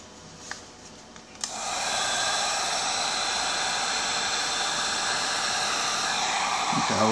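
A heat gun blows a steady, loud broadband hiss as it shrinks heat-shrink tubing over cabling on a homemade benchtop Jeep sensor power supply, starting with a couple of clicks and then running continuously to the end.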